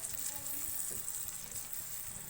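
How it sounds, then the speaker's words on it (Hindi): Ground spice masala with red chilli and turmeric frying in oil in a pan for chicken masala, a steady fine hiss that stays even and close throughout, with no speech. "इनको फ्राई कर लेंगे मसाले को।"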